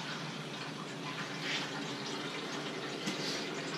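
Water pours steadily into a container through a filter, a continuous soft rushing trickle at moderate level with no talking.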